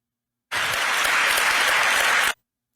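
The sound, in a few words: crowd applause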